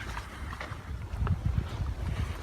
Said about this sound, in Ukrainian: Тут зовсім другий вітер, зовсім друге тут.